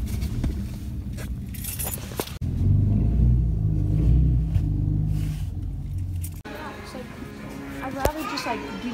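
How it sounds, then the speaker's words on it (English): Diesel vehicle engine rumbling nearby, a low throbbing idle that swells in the middle, with people talking over it and a few light clinks. "There's a nice diesel."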